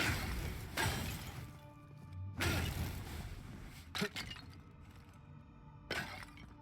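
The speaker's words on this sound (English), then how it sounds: "I do love smashing things that just gives me health." Objects smash and break in the video game Avowed, with four sharp shattering crashes spread a second or two apart over a quieter background of game sound.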